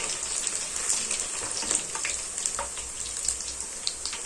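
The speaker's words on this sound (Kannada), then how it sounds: "ಚೆನ್ನಾಗಿ ಕ್ರಿಸ್ಪಿಯಾಗಿ ಫ್ರೈ ಮಾಡ್ಕೊಳ್ಳೋಣ." Soya chunks and cauliflower florets deep-frying until crisp for a street-style manchurian, a continuous close hiss of hot oil with faint stirring clicks scattered through.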